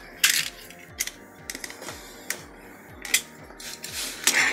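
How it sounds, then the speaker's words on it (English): A blade slices through an EVA foam sheet, cutting a piece for a modular cliff wall. Soft crackling scrapes come in a few separate strokes, close and fairly quiet, over a faint repetitive mechanical ticking. "So I'm going to cut this at 7 inches."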